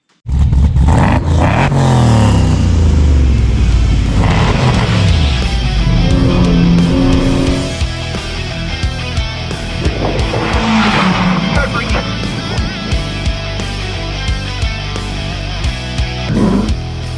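A 2020 Tony Kart 401R with a two-stroke 125 Rotax Senior Max Evolution engine screams past and fades, with tire squeal and changing pitch as it accelerates and brakes on a track.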